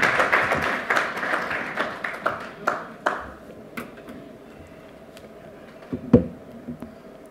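Audience applause at a tax justice conference: a dense burst of clapping that thins into scattered, fading claps, followed by a couple of isolated louder taps near the end.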